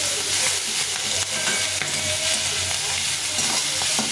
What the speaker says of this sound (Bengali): আর একটু হলুদ গুঁড়ো পেঁয়াজে কুচি ভালো করে ভেজে নিই